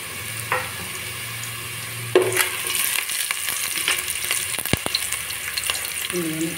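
Whole spices dropped into hot oil in a pan, a low hum giving way to a sudden burst of close crackling and sizzling, with a couple of sharp metallic taps.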